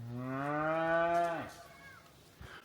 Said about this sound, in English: There's cows in the bushes over here.